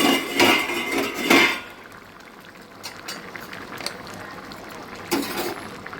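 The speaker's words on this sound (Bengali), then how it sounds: "এবার ঢাকা চাপা দিয়ে দিচ্ছি" A metal lid clanks onto a pot of boiling peas for vegetarian ghugni: two close clattering knocks, then a quiet stretch with soft bubbling and one more clank near the end.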